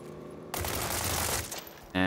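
Gunfire in the video game World War 3: after a quiet start, a dense burst of rapid shots rattles for about a second and a half, then fades, followed by a brief tonal game sound.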